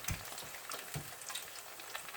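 Panko-coated beef tripe fries in hot grease with a steady low crackling sizzle, punctuated by a few louder pops and bursts, close by with no talk.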